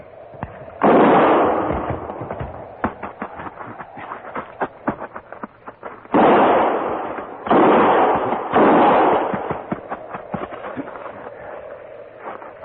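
Gunfire sound effects in a Western radio drama: rapid volleys of sharp shots and crackling reports, with several loud sustained bursts of firing separated by stretches of scattered single cracks.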